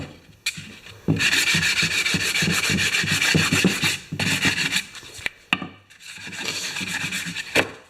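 A wooden tool handle being sanded by hand to take off its shine: bursts of dry, raspy rubbing strokes, close and fairly loud, broken by short pauses.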